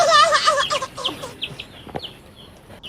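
Nearby native hens cluck in short, rapid bursts that trail off into a few softer chirps and quieter clucks.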